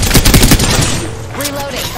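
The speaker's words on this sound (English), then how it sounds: "Getting shot at." Rapid gunfire in the Apex Legends video game rattles out in loud, close bursts for about a second, then stops, leaving a quieter in-game voice and effects.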